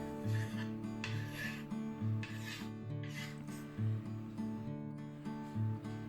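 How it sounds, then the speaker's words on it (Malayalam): Onion and tamarind are squished and mashed by hand in a bowl, a soft repeated rubbing and rasping rhythm of squelches at close range, faint beneath a steady background hum, with no talking. "ഇതൊരു ബൗളിലേക്ക് ഇട്ടിട്ട് നമുക്ക് നന്നായിട്ടൊന്ന് മാഷ് ചെയ്തെടുക്കാം"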